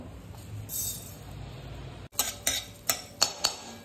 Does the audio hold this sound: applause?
no